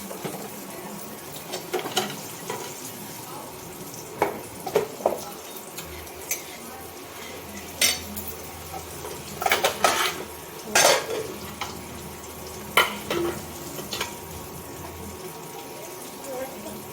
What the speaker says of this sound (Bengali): মাছ ভাজা হয়ে যাচ্ছে, খুব ভালো করে ভাজা হয়ে গেছে